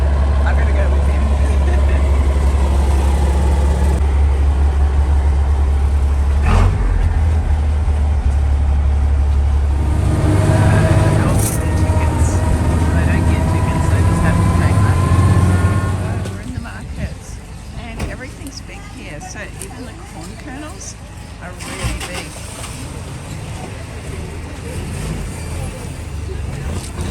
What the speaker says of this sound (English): here comes our bus. That's a chicken bus.